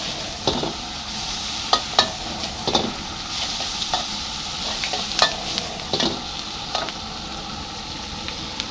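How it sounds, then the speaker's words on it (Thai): Mixed vegetables and minced pork stir-fried in a hot pan, a steady loud sizzle broken by repeated scraping and clanking of a ladle against the wok, close and without talk. "ผัดผักไปแรงๆแบบนี้ครับ"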